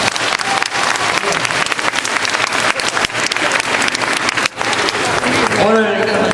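Loud, dense applause fills the room at a school principal's retirement ceremony, a continuous crowd clapping that briefly dips near the end, with voices faintly audible.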